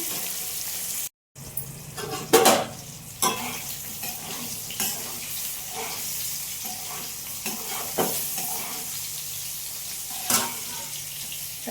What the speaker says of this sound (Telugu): ఈ కాకరకాయ తాలింపుకి కొద్దిగా ఆయిల్ ఎక్కువే పడతాది కాయలు కాయలుగానే వేగాలి